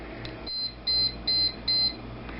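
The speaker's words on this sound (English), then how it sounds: "the beeping sound that you heard. It was a set of 6 beeps and 3 times" A Cuisinart convection bread maker beeps: three short high-pitched electronic beeps in a steady rhythm, each a quick pair of tones, over a low background hum.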